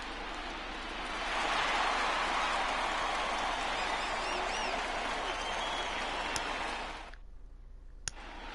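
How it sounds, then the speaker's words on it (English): A baseball home crowd in a ballpark applauds for a pitcher leaving with a shutout in a World Series game, a steady roaring wash of clapping that swells, holds for several seconds, then drops off abruptly. "this home crowd likely to give him a standing O as he departs with the shutout in check"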